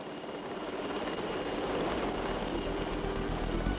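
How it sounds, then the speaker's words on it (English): A rescue helicopter flies among the Mont Blanc mountains, its rotor and engine giving a steady, loud broadband roar that holds without pause through the whole stretch. "the helicopter starts to ferry down the stranded climbers"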